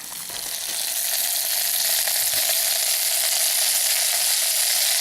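Beef for Hungarian stew sizzles in a mess kit pan, a loud, steady frying hiss that builds over the first second and then holds evenly, with faint clicks and scraping.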